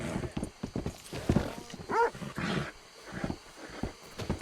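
Hooves of a ridden horse clip-clop at an easy pace in Red Dead Redemption 2, with short voice sounds and game ambience mixed over the rhythmic steps.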